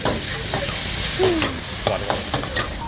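Crispy pork is stir-fried with dark soy sauce and holy basil at a roadside made-to-order food stall, a loud steady sizzle with several quick spatula scrapes and clanks against the wok, close up with no talk.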